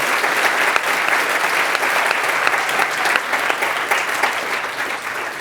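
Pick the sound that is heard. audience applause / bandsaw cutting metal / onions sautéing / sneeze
audience applause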